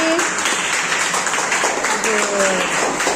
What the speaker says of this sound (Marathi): सुधीर साठी टाळ्या वाजवा बरं सगळ्यांनी.